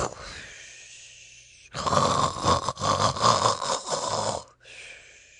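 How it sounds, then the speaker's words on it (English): Loud, rough snoring with snorts from a badger, a big burst of several seconds between quieter breathy stretches, close and alone. "Tommy Brock snored industriously"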